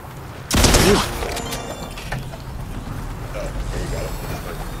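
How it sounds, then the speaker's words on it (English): A sharp burst of rapid video game gunfire erupts briefly, then fades into quieter distant shots and mechanical clatter, with faint voices in the background. "I hear gunshots"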